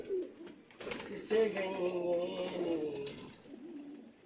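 Pigeons cooing close by in a loft, soft throaty coos repeating steadily through the stretch, with no talk over them.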